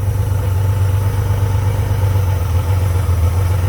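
A Honda Goldwing GL1500 motorcycle engine, which has a vacuum leak, idles steadily with a low, even rumble running with its carburetor and air cleaner off, close and loud with no other sounds over it.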